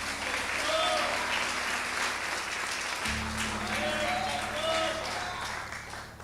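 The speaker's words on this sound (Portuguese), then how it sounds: "Aplaude a Jesus bem forte." A church congregation applauds loudly and steadily at a worship service, dense clapping holding throughout with voices and shouts mixed in, and a low organ or keyboard tone sustained underneath.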